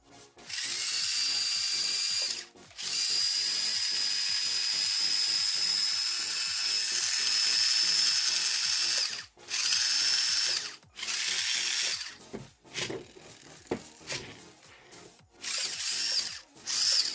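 Xmods Evo RC car being converted to hobby grade, its electric motor and drivetrain whining at a steady high pitch in several long bursts, with short pauses and quick stop-start blips toward the end, close and loud, slightly scratchy from the rear differential.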